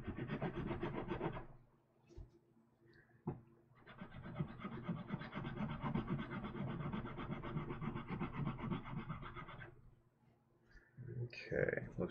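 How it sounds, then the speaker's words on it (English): A metal file scrapes along the beveled edge of a plastic Master Grade Jesta model kit part. The rasping comes in two long, steady passes at close range, with a pause between them and no talk. "let the file just kind of ride on that beveled surface"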